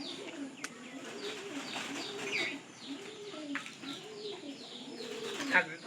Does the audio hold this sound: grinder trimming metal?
no